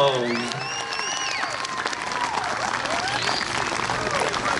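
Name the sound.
audience applause at BBQ competition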